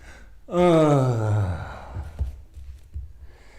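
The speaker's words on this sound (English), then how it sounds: "Don't forget to exhale loudly." A person lets out a loud, voiced exhale while holding a yoga posture, a long falling breath sound that tapers off, followed by a few quiet breaths and small movement noises.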